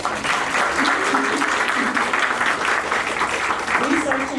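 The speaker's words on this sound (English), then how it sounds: "Can we just give a round of applause?" An audience applauds steadily after a request for a round of applause at a Yale University event, a dense, even wash of clapping that holds for several seconds, with a few faint voices underneath.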